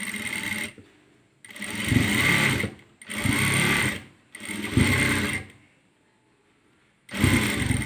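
A sewing machine runs in four bursts of rapid, whirring stitching with short pauses between them as cloth is sewn into a hair band. The sound is close and fairly loud, with no speech.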